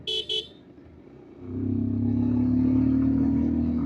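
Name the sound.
dual-tone horn of a 2026 Bajaj Pulsar 150 motorcycle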